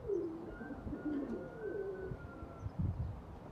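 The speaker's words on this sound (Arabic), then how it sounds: "الحمام الخوت اللي كياخذ راحته اش غيدير" Pigeons coo nearby in a pigeon loft, several soft, throaty calls overlapping over a few seconds, moderately quiet with faint background noise.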